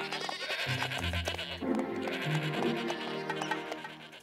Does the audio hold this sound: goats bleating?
yes